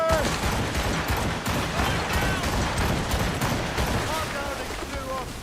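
Ship cannons firing during a naval battle in the video game Assassin's Creed Rogue. Repeated booms and blasts roll through a dense, noisy battle soundscape, with crew voices shouting throughout.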